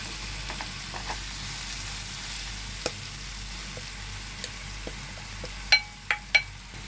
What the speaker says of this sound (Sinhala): අපි දැන් මේක පොඩ්ඩක් තෙලෙන් බැදෙන්න මේ විදිහට අඩු ගින්දරේ තියමු